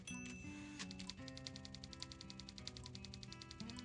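Rapid keyboard typing in the adventure game Thimbleweed Park, a steady stream of crisp, evenly spaced key clicks over looping game music, continuing throughout with no talk.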